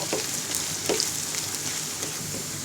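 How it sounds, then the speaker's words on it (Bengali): Chopped garlic and three dried red chilies fry in oil until browning, a loud close crackling sizzle with quick stirring scrapes over a short span. "আধা কাপ পরিমাণ রসুন কুচি এবং তিনটি শুকনা মরিচ এবার ব্রাউন কালার করে ভেজে পেঁয়াজ রসুনের ফোড়ন তৈরি করে নিব"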